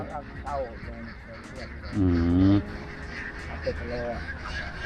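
Ducks on a Thai free-range duck farm, where the flock is herded to forage in the fields, quack nearby in short honking bursts. One louder, drawn-out quack stands out midway while someone talks over the flock.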